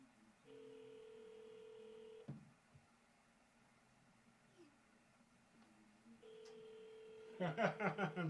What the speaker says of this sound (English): Give Rick a call.